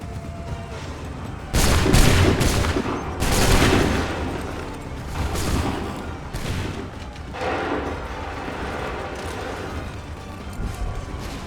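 A musket volley in the Assassin's Creed III video game booms out on command as a ragged burst of gunfire, followed by a second and a third volley against a rumbling battlefield background.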